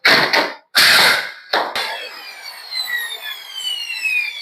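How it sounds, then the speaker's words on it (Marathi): A wall putty spraying machine blasts putty onto a house wall in loud, close hissing bursts, two strong sprays and a shorter one, followed by a fading mechanical whine with rising and falling tones. "मशीनद्वारे पुटिंग फिजवत आहेत आपण करत आहोत"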